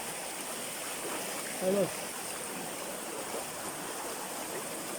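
Strong current of a flowing river stream rushing steadily in a steady broadband hiss at moderate distance, a brief spoken word cutting in partway through.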